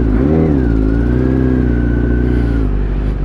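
Kawasaki Z superbike engine revving close by, a quick rise in pitch, then a held high rev that drops back to idle.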